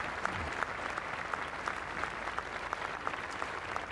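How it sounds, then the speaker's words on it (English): A large outdoor crowd at the 75th anniversary D-Day commemoration ceremony in Normandy breaks into a steady, sustained round of applause, dense clapping with no talk over it. "often these spontaneous rounds of applause break out"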